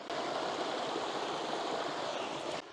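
Flowing water from a stream during trout season after some rain, a steady, close rushing wash that runs evenly, then drops off abruptly near the end, with no talking.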